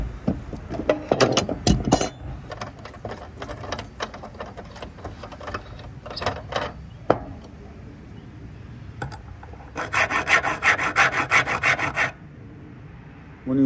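A hand file scrapes across a white brass connector salvaged from a cell tower antenna, giving close, gritty rasping strokes. Scattered clicks and handling knocks come first, then a steady run of filing near the end.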